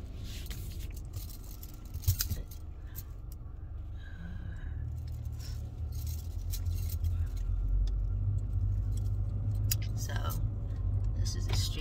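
A car idles and rolls slowly in reverse, its low engine rumble steady and close, growing slightly louder partway through, with a few faint clicks and jangles over it.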